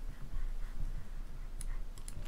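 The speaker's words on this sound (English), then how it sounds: "I'm typing you letters and I don't have a delete button." Soft, irregular clicks of keys being tapped as letters are typed in the video game Little Inferno, over a low steady background hum, with a few brighter ticks near the end.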